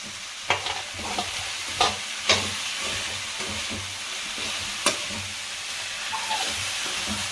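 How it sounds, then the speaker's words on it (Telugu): Okra fried with browned onions in a pan over low heat, a continuous close sizzle and hiss broken by several sharp spatula taps and scrapes against the pan. "సిమ్లోనే కొంచెం పెట్టి ఫ్రై చేసుకోవాలి"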